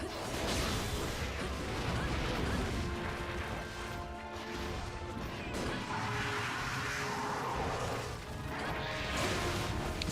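Big explosive blasts from a Switch Axe attack while hunting a monster in Monster Hunter Generations, loud, dense crashing impacts repeating across the stretch amid busy game noise.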